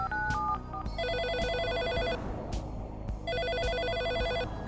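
A video game telephone in Always Sometimes Monsters rings in two bursts of electronic trilling bells, close and clear, with a short quiet gap between them.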